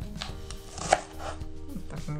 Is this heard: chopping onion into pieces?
yes